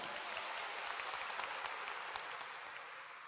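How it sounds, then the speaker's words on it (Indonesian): An indoor audience at a Tiens business seminar in Bandung bursts into sustained applause, a dense, even wash of clapping from many hands lasting a few seconds. "aplaus buat Anda semuanya"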